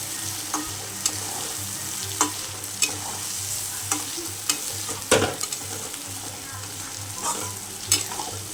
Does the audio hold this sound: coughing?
no